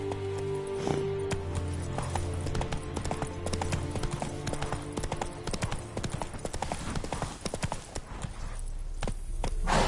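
Geralt's horse Roach gallops in The Witcher 3, hooves pounding in a steady, close clip-clop rhythm that carries across the whole stretch, with game music and ambient effects layered underneath.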